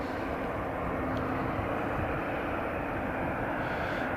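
A passenger airliner, an A220, taxis at Riga International Airport in freezing snowy weather, its engines giving a steady, continuous broadband roar with no speech over it.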